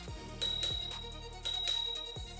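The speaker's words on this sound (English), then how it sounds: "the pedestrian bell sounds more comforting to your ear than as opposed to the horn" The pedestrian bell on a Segway GT3 Pro electric scooter rings twice, each ring a quick pair of bright dings fading out, close and moderately loud, with a pause between them.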